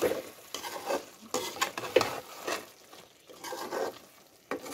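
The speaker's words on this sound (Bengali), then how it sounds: "আর একটু নেড়ে দিচ্ছি" Spoon stirring chicken curry in a pan with a frying sizzle underneath, in irregular scraping strokes close by with no talking.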